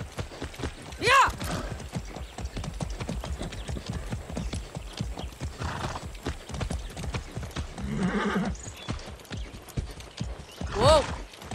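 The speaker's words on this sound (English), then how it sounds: "That's a good horse." Horse hooves clip-clop in a quick, steady rhythm in the video game Far Cry 6, with a couple of sharp whinnies breaking through, near and fairly loud.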